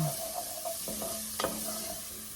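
Garlic sizzling softly in a pot with a little olive oil, a steady low fry broken by a few sharp stirring clicks of a utensil against the pot.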